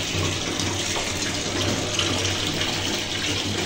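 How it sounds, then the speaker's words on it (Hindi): Steady running water from a tap while washing okra, a continuous broadband rush with no pauses, fairly close and constant throughout. "लेकिन अभी इसी में भी पानी डालूंगी मैं"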